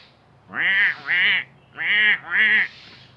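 A video game bird lets out four loud, nasal quacking calls in two pairs, sharp and close with brief pauses between them and a faint background hum.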